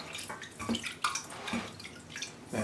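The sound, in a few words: water flicked onto sphagnum moss when repotting an orchid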